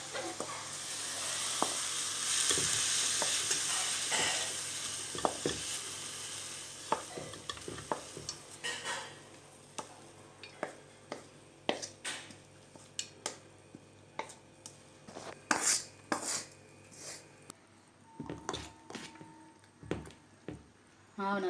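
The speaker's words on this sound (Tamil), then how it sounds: "மாவு நல்லா கிளறி வச்சிட்டோம்." Kara paniyaram batter being stirred in a bowl: repeated wet scraping and clicking strokes at an irregular pace, with a soft sizzle early on and quiet gaps between strokes.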